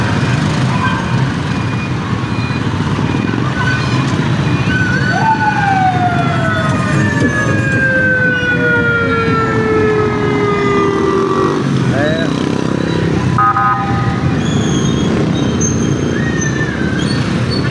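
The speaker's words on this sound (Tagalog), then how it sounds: "Ito yung ambulansya dahil baka may ano doon." An ambulance siren wails with a sliding, descending tone over loud traffic rumble, growing more prominent midway through.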